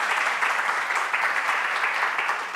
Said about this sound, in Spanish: fuerte el aplauso para Esteban